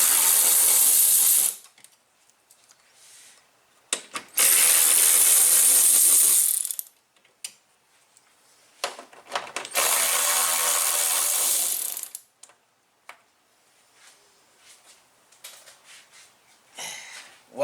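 Ratchet wrench clicking rapidly while unscrewing the grille bolts on a Lexus GX460, three long loud bursts of ratcheting separated by pauses with faint handling clicks and rustles between them.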